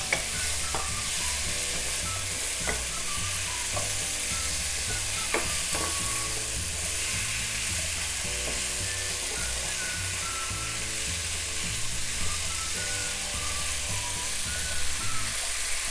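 Potatoes stirred in a pan for a potato, peas and carrot curry, with repeated scraping and clicking strokes over a steady sizzle throughout.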